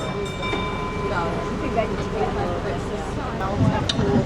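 A tourist train rumbles around St. George's, Grenada, with rhythmic rattling and a faint high whine, while people talk over the steady motion.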